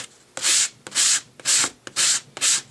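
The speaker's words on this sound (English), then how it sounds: "I just take a sanding block with the roughest side of my sandpaper and I just start gliding against the grain." Five rhythmic, even strokes of a sanding block loaded with rough sandpaper rub across painted chipboard, each a close, crisp scratchy swish separated by short pauses.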